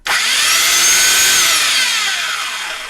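A 1100 W belt sander whines up to speed and runs loudly and steadily, its high-pitched motor drone slowly dropping in pitch toward the end.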